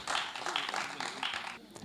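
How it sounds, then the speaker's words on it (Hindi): An audience claps in a dense, fairly quiet wave of applause at an All India Mushaira poetry gathering in Lucknow in 2022, cheering a poet. The clapping is brief and steady. "मैं चाहता हूं कि एक बार ज़ोरदार तालियां बजा दें आप निशात अफरोज साहब के लिए"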